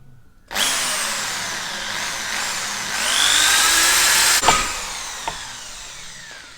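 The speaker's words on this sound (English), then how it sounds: "using a power drill, we just want to drill these 2 holes out." A power drill spins up sharply and whines through wood, pitch rising as it bites, then winds down with a clunk; close and loud, no talking. Drilling two holes for a Kawasaki Versys X 300 fuel can mount.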